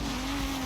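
A go-kart in a racing video game accelerates hard with a steady, droning engine tone over a continuous, even road noise.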